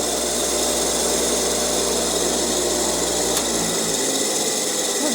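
A 3,600 RPM electric motor for a drum sander runs steadily throughout, a loud, constant machine drone with a brief click partway through and a slight shift in pitch near the end.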